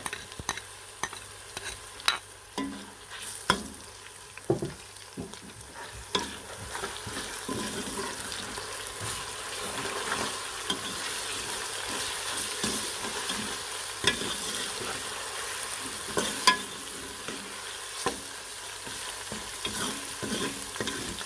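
Steady sizzling of onions frying in a pan with garlic ginger paste added, occasional stirring clatter and scraping, no talking, close and moderately loud throughout.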